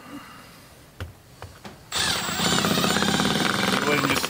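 A power drill drives screws into a resin outdoor kitchen cabinet, first a few brief clicks and taps, then a loud sustained whirring run that continues to the end.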